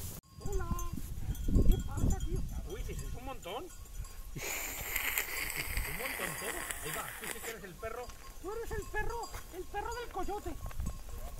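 Sheep and goats on a farm bleat repeatedly and close by, many overlapping calls over several seconds. A burst of broad rushing noise sweeps through the middle.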